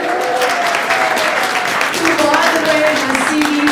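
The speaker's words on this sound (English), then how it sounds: "Please give her another big round of applause for coming all the way out here." Audience applause for a special guest at a veterans event in Sedona, a dense crowd clapping steadily for several seconds, with a voice speaking faintly over it.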